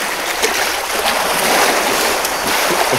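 Wild boar splashing and churning water in an enclosure pool, a steady, close, rushing wash of surf-like splashes that carries on without pause.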